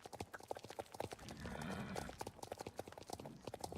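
Horse hooves clip-clopping on cobblestones, a steady rhythmic series of sharp, close hoof strikes with a brief rumbling, scraping stretch in the middle before the clopping resumes.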